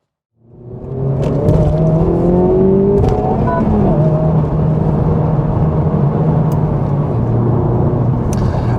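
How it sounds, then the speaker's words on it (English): A 2024 Honda Civic Type R drives Millbrook's hill course, its engine rising from silence into a loud, sustained close-up drone with shifting pitch as it revs and changes gear, steady throughout. "now we're going to go and drive it on Millbrook's gnarly hill course"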